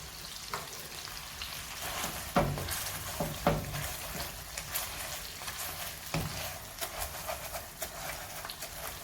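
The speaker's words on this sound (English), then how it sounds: "I'm going to use my handy potato masher. And just mash the onions up nicely." Fried onions mashed in a pan with a potato masher for an egg curry: a steady quiet sizzle with irregular soft thuds and scraping knocks of the masher against the pan, spaced every second or so.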